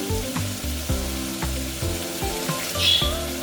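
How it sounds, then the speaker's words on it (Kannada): Tomatoes fry in hot oil for a Karnataka-style vangi baath, a close sizzle broken by regular scraping strokes of a spoon stirring the pan, with no talk. "ಟೊಮೆಟೊ ಎಣ್ಣೆ ಚೆನ್ನಾಗಿ ಫ್ರೈ ಆಗೋವರೆಗೂ ಬೇಯಿಸಿ"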